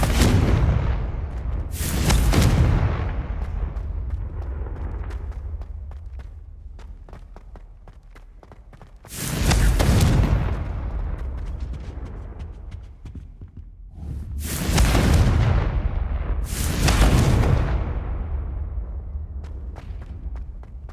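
Confringo fire spell explosions in Hogwarts Legacy, four heavy booming blasts spaced several seconds apart, each with a rumbling tail, with quieter background sounds in between.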